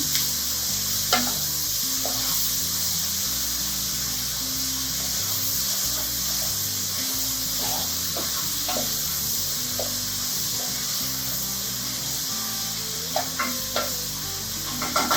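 Jambalaya ingredients fry and char in a pan on near-high heat, with a steady loud sizzle throughout and occasional scraping stirs and clacks from a utensil.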